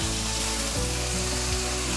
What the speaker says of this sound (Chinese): 豆腐就稍微給它煎微微的金黃色就好，大概煎了2分鐘左右